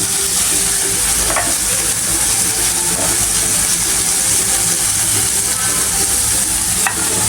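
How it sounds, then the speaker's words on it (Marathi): Capsicum, carrot and corn sautéing in ghee for paneer pulao, a loud continuous sizzle up close with repeated stirring scrapes and a couple of sharp utensil clicks, no voices. "हे सगळं आपण छानसं परतून घेऊया. भाज्या तुपावर"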